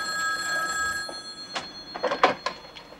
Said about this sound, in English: Jenny, phone call.